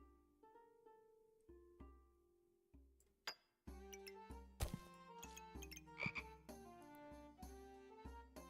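A frog croaks in the video game Backpack Battles, sounding as a series of short, distinct tonal croaks with clinking game effects and chimes layered on top, clear and upfront with no talking.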